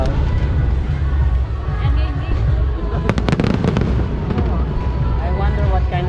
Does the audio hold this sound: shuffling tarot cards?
no